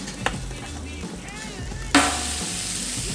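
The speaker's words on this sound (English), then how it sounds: "Starting to sizzle." Steaks hit a cold grill grate on a spin grate and sizzle up abruptly into a loud, steady hiss of frying after a quiet start with a few faint clicks, continuing close and unbroken to the end.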